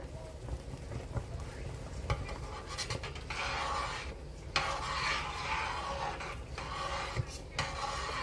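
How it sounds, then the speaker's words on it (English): A spoon stirs boiling homemade strawberry jam, made without pectin, in a big pot: repeated scraping, rasping strokes against the metal under a constant bubbling hiss. "it's really boiling, so we're just going to really keep stirring it"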